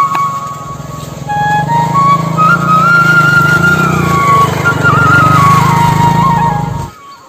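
An Apache RTR 160 motorcycle engine runs close by, rising from idle into a sustained revving drone with shifting whine, then cuts off abruptly near the end.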